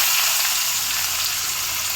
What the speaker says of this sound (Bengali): ফোড়নে দিলাম গোটা শুকনো লঙ্কা আর গোটা গরম